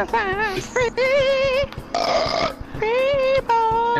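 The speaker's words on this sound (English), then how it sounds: "It was definitely a beer burp." A man lets out a long, drawn-out burp after drinking beer. It is loud and close, with voiced croaking stretches broken by short gaps and a noisy middle section.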